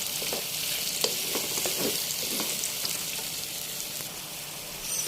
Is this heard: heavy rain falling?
no